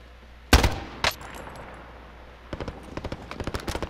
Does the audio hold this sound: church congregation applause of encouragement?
no